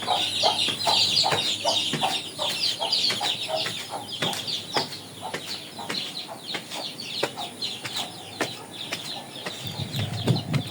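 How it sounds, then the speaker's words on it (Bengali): Native desi chicken chicks cluck in a rooftop garden, a steady run of short, repeated calls close by over light outdoor background noise. "একেবারে দেশি মুরগির বাচ্চা"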